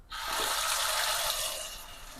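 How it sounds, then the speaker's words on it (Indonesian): Hot water gushes steadily from a kitchen tap into a sink, a loud continuous hiss and splash that starts abruptly and runs alone without any talk. "Kita setel airnya yang paling panas baru."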